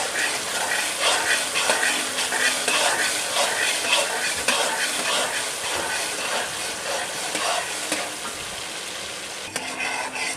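Tomatoes and white cumin frying in a karahi for beef karahi gosht, a steady close sizzle with continuous stirring scrapes throughout, no voices.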